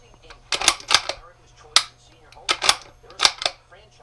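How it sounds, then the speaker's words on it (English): A Ruger Gunsite Scout Rifle worked and dry fired, giving close metallic clicks and clacks of the bolt and trigger in small clusters, with quiet pauses between. "I do dry fire them a little"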